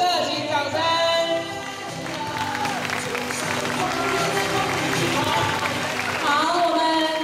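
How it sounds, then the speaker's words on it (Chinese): A crowd claps for several seconds at a junior high school graduation ceremony in New Taipei, with a voice speaking over the applause at the start and end. "我们热情掌声。"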